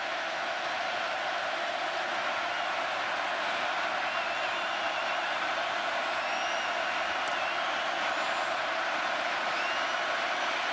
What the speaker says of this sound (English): it's owing to the crowd noise here at Kyle Field